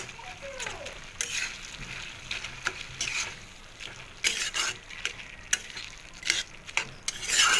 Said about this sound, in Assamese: মাছৰ মাথাকেইটা দিছিলোঁ যে অকণমান লৰাই দিম।